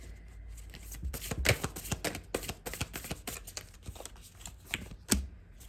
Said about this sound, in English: let's go ahead and pull one more card